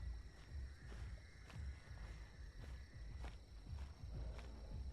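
Multiple dinosaurs walk nearby in Path of Titans, their footsteps sounding as faint, heavy, low thuds in a loose repeating rhythm over quiet ambient game noise.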